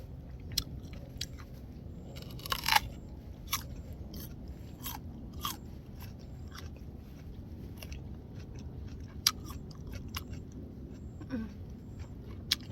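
Crunchy fresh peach picked straight from the tree in a Korean orchard being bitten and chewed, with scattered crisp crunches over a steady low background and no talk.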